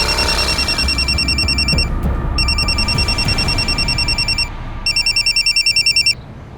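A telephone rings loudly in a room, trilling in repeated electronic bursts with short pauses between them, over a low background hum and with no voices.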